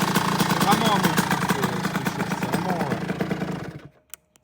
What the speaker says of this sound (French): C'est un moteur qui envoie la mort. Vraiment, c'est un monstre.